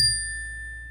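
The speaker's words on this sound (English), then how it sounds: "I rang on my bell" A small meditation bell is struck once at the start of a Kriya Yoga morning reading, giving a clear bright ding whose pure tone rings on and slowly fades through the whole second, with no talk over it.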